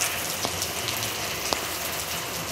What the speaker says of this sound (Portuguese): Olha, chegou a chuva.